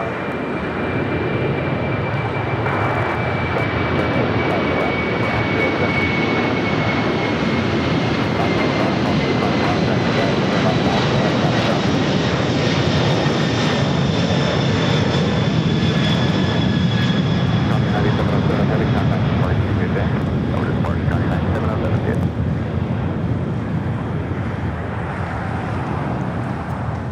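Jet airliner engines roaring through takeoff at LAX airport, a loud continuous rumble with a whining tone that slowly falls in pitch, sustained for the whole stretch, with faint radio chatter underneath.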